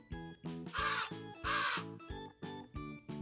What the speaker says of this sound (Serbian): Treća ptica o kojoj pričamo je gavran.